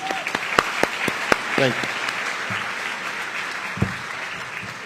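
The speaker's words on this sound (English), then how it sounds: "please join me in welcoming them and welcoming this great community here by giving them a big round of applause" An audience at a ceremony honoring a newly appointed appeals court judge gives a round of applause. The clapping is moderate and sits under a voice speaking.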